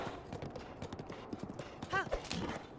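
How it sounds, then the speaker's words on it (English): Horse hooves clip-clop in The Legend of Zelda: Breath of the Wild Champions' Ballad DLC, a steady run of soft beats mixed under game music and a brief whinny-like tone, with a person talking over it. "Oh, now I can summon my horse?"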